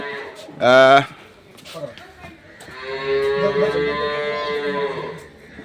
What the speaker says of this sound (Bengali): এখানে গরুটিকে বের করা হলো এবং খুবই চঞ্চল প্রকৃতির একটা গরু